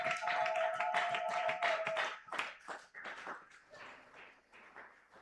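A church congregation claps loudly for Jesus during a Sunday praise service, dense rhythmic hand claps over a sustained sung or played tone that fades out, leaving scattered, thinning claps.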